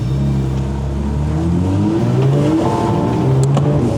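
Porsche GT3 RS engine accelerating, a loud close-up rising engine whine climbing through the revs, steady and powerful with no speech over it.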